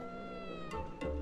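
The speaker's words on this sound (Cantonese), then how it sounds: "哦，黑貓嚟㗎" Black cat meowing in the cozy life-sim game Heartopia, two short soft meows over a steady bed of tonal game background music.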